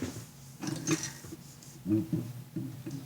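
Sewing machine stitching the bottom flap of a fabric school pencil case with a pen-drive pocket: faint, uneven mechanical whirring and soft clunks that come in short repeated bursts, close by and quiet.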